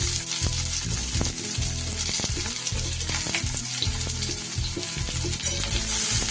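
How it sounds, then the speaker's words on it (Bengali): Finely chopped onion fries in oil with tempered spices for a Bengali masoor dal tadka, a loud continuous sizzle with occasional stirring scrapes, alone without talk. "ফোড়নটা আমার হয়ে গেছে। এবার রাখা পেঁয়াজটা দিয়ে দিলাম।"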